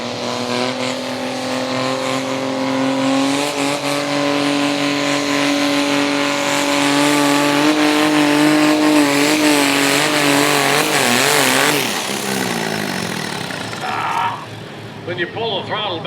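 A John Deere diesel garden tractor races at a pulling event in Idaville, Indiana, its loud engine holding a steady roaring drone before the pitch wavers and falls away, while an announcer talks over it.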